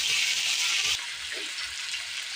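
Potatoes frying in a pan with spices while being stirred, giving a loud steady sizzle that eases slightly partway through, with soft scraping stir sounds beneath.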